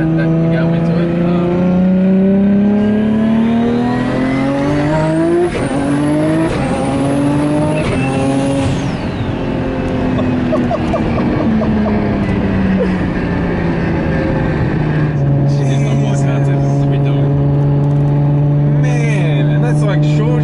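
A street-legal Nissan R34 Skyline GT-R making 1000 hp at the wheels pulls hard from inside the cabin, its engine rising and short-shifting through the gears with a turbo whistle, then settling to a steady loud drone.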